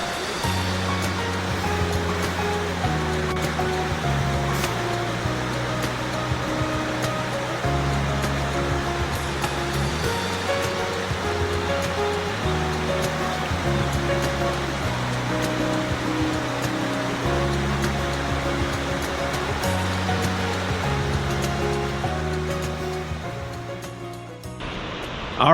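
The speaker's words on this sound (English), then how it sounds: "that waterfall was so loud over there" A loud waterfall roars continuously, a dense steady rush of falling water filling the whole scene.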